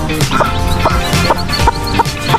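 Backyard chickens, hens with young chicks in the rainy season, cluck in quick repeated bursts close by, several birds overlapping in a busy, steady chatter.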